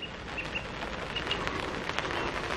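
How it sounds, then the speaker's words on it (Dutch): Steady rain falls outdoors in a continuous, dense hiss, with a few faint bird chirps above it. "Regen."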